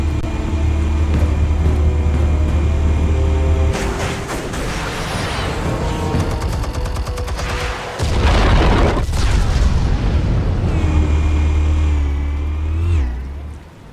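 Explosives detonating in Batman: The Telltale Series video game, loud booming blasts and rumbling bursts layered over a dense, continuous game score.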